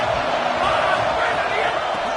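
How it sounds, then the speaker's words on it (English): Steady roar of a college football stadium crowd, loud and continuous for the whole stretch, a dense wall of cheering and shouting aimed at the visiting offense. "This crowd trying to make life miserable for this offense."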